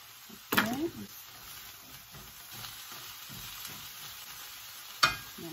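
Garlic hits a hot pan for homemade frijoles charros with chorizo, giving a steady low sizzle with a sharp clatter as it goes in near the start and another brief knock near the end.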